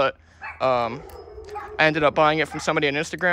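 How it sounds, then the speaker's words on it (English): A dog yips and barks in brief bursts, with some whimpering tone, under someone speaking close to the microphone. "My dog's just barking."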